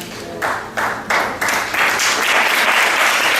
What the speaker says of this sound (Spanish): Vamos a aplaudir todo el mundo a las mujeres,